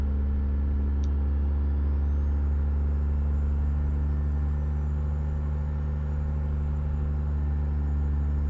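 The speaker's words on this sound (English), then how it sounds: "Especially when you got a big old C-16 Caterpillar. That's just a massive engine right there." A Caterpillar C-16 diesel truck engine in American Truck Simulator drones steadily and loudly throughout, a deep continuous rumble with a faint high whine above it and no speech.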